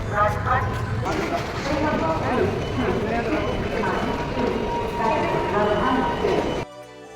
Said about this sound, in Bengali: সোজা চলে এসেছি এই হজরত নিজামুদ্দিন স্টেশনে